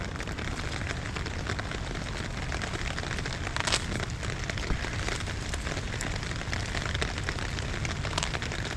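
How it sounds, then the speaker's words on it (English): Steady outdoor rain falls on the ground and nearby surfaces during weed pulling, a dense even hiss with scattered closer drops. It continues throughout at moderate volume with no talking. "And it's been raining all day"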